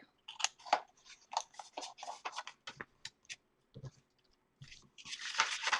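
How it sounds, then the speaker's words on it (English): Scissors snip through scrapbook paper tabs on a simple paper box in a quick run of sharp, close cuts, with a brief rustle of handled paper at the end. "So just snip those real quick"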